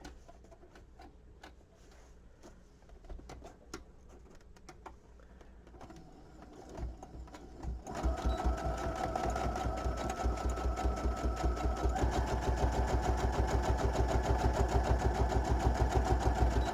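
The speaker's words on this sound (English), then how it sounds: "It's just one little straightish line that I'm sewing." A sewing machine stitches a short straight line on a botanical journal craft piece, starting with light scattered handling clicks before a steady, loud, rapid mechanical whirr takes over and runs continuously to the end.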